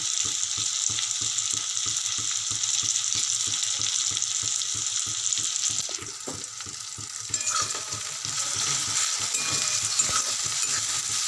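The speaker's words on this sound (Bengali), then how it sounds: "দেখো পেঁয়াজ আর টমেটো আমার ভাজা হয়ে এসে আরেকটু হবে ভাজা" Chopped onion and tomato sizzle in a pan for a fish curry, a constant bright frying hiss under a steady rhythm of regular stirring taps, close and alone without talk.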